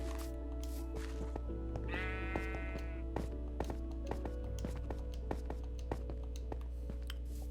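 Sheep bleating in a video game, with a clear wavering bleat near the middle over steady in-game ambience and scattered sharp tapping and chopping clicks.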